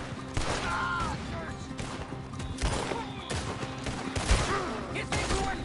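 Gunfire in the Red Dead Redemption II video game: several sharp shots and bursts scattered across a busy shootout scene, loud and close, mixed with shouting voices and game effects.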